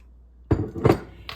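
A spoon stirring unsweetened organic soy milk with apple cider vinegar makes two or three quick, close clinks after a moment of quiet.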